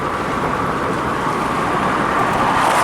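An old car nicknamed Old 57 rolls down a dirt road, giving a steady, close engine drone with continuous road rumble and no pauses or talking.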